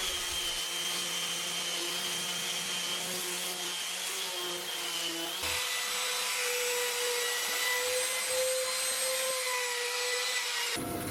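A power tool drives stainless steel screws into timber slats of an outdoor sofa, with a steady, close motor whine that shifts in pitch partway through, running for about eleven seconds with no speech.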